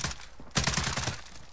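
Rapid bursts of SA-87 fire in a video game, a short clatter of shots followed by a denser volley of evenly spaced cracks, close and punchy, fading out after about a second.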